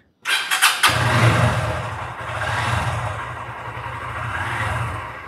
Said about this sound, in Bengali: তো মোটরসাইকেলটা হালকা ওয়ার্ম আপে দেই।